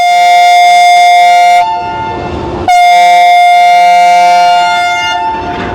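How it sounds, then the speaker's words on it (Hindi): Two long, loud blasts from the horn of the Shah Latif Express at Drig Road Junction, each a sustained harmonic tone that cuts off sharply, with rumbling rail noise filling the short gap between them. "2 ज़ोरदार हॉर्न सुनने के बाद ट्रेन में सवार हो गए"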